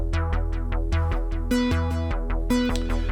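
A dry bass synth line on a Moog Model 15 modular synthesizer, loud, rhythmic plucked notes pulsing several times a second with sustained low tones underneath, playing alone with no talk.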